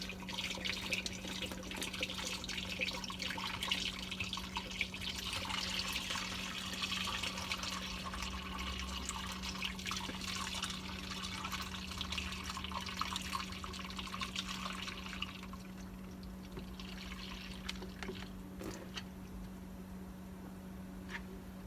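Hot chai is poured slowly through a strainer at a cafe, producing a continuous liquid rush and splash that runs steadily for most of the span and then thins out toward the end, under a constant low hum.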